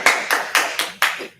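Meeting attendees at a planning and economic development session give a short, sparse round of clapping, about five distinct claps in a loose rhythm, close and alone.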